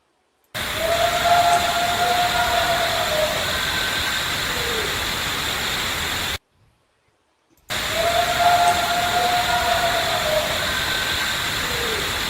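Purported Bigfoot vocalization in a forest: a long, wavering whoop-like howl rises and falls over a steady hiss of ambient noise, heard twice with a brief silent gap between the two passes.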